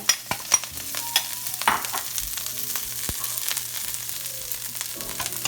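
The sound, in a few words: scallions, basil and garlic frying in grapeseed oil in a hot pan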